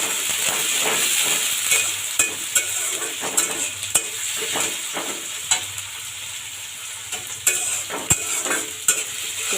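Chopped onion and whole garlic cloves fry in a pan for khichuri. A dense, continuous sizzle is punctuated by repeated sharp clicks and scrapes of a spatula against the pan.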